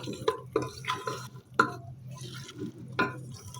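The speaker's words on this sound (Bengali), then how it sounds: "এখন আলুটাকে ছোলার ডালের সঙ্গে ভালো করে মিশিয়ে নেব" Chunks of potato are stirred into chana dal in a pot, making a few separate wet knocks and squelching scrapes at uneven intervals, close and moderately loud, with quiet gaps between strokes.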